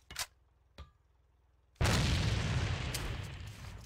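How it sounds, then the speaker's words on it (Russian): A thrown grenade bursting in the shooter game A.V.A, a loud sudden blast after two small clicks, followed by a long roaring decay. "Бросаю гранату!"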